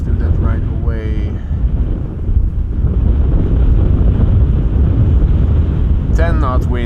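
Strong wind buffets the microphone at Amsterdam Schiphol Airport, a loud, constant low roar running the whole time, with brief speech near the start and again at the end.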